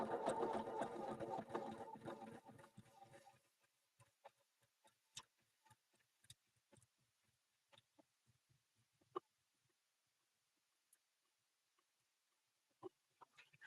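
A sewing machine stitching a rolled hem runs fast and steady for a few seconds, then stops, leaving a string of quiet, scattered ticks and clicks.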